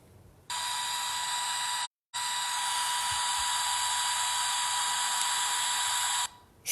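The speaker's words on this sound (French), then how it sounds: "J'ai cette petite radio. Si je l'allume, ça va faire ça." A small portable radio switched on in an abandoned village, giving a steady loud hiss of static with a constant tone, briefly cut once and then resuming until it is switched off.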